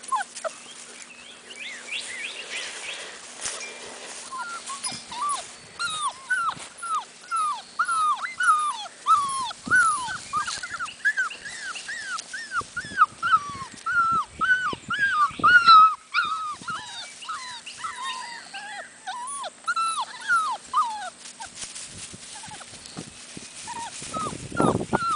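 Several young black male puppies whimper and yip continuously at close range, with high, wavering cries overlapping in a busy chorus and occasional soft bumps and rustling.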